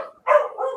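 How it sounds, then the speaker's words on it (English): A dog at home lets out a single short bark, close and fairly loud, with quiet before it. "Hey, Marley's barking."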